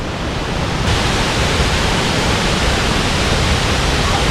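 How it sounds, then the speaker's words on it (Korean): Kuang Si waterfall in Luang Prabang, Laos, pours in a loud, steady, unbroken roar of falling water close by, with no voices over it. "이곳에도 폭포가 있습니다"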